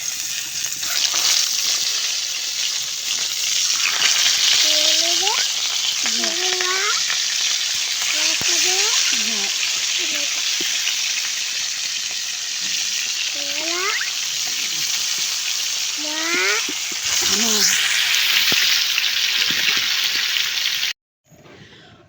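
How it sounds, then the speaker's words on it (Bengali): Rui fish fries in hot oil at an outdoor cooking spot, giving a loud, continuous, close sizzle that runs almost the full length before cutting off abruptly near the end, with birds chirping intermittently behind it. "এই তেলটা গরম হয়ে গেছে, দিয়ে দেবো একটু করে।"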